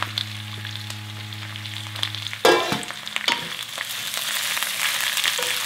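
Green onion and green chili pepper stir-fried for spicy Korean sundae-bokkeum, a hum cut off by a sudden loud burst of sizzling as the vegetables hit the pan, then steady frying with stirring scrapes.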